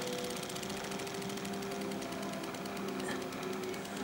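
A washing machine motor runs under hand pressure with a steady, fast mechanical whir and buzz, held at an even level throughout, fairly faint and without speech.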